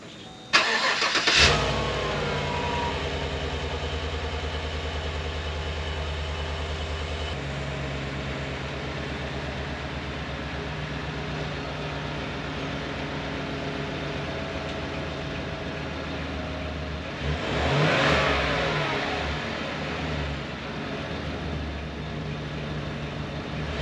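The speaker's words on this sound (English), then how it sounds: "we're going to take a little listen to how the vehicle sounds on startup right now, and also a little rev" A Chevy Suburban Premier V8 with stock exhaust cranks and catches with a sharp burst, settles into a steady low idle up close, then gives one brief rev and drops back to idle.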